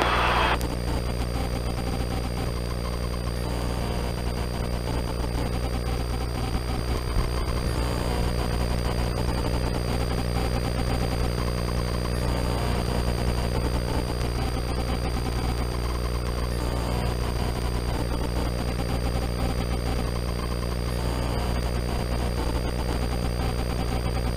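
A helicopter in flight, heard from inside the cabin as a constant, loud engine and rotor hum with steady tonal whine that holds evenly throughout.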